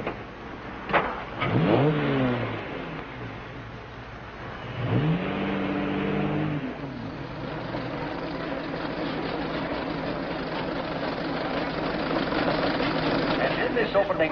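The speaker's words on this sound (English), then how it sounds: "Here is the Stanley Steamer, ready to defend its honor against the Model T." Antique cars, a Stanley Steamer and a Model T, rev and accelerate at the start of an early race, with rising engine whines and steady motor drone under voices.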